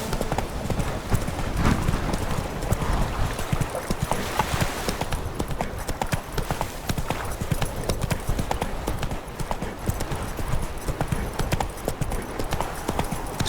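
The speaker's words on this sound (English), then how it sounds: "Let's go, Roach. Faster now" Horse hooves galloping in The Witcher 3 (Blood and Wine), a steady rapid clip-clop that keeps on through the whole stretch, close and fairly loud, with occasional faint game sounds mixed in.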